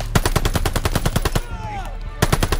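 Rapid bursts of machine gun fire ring out in Call of Duty Vanguard at the Merville battle in Normandy, France. Loud, evenly spaced shots pause briefly for a faint whistling sweep, then resume.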